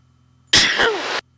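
A single sharp sneeze bursts out close and loud, lasting under a second against a quiet background.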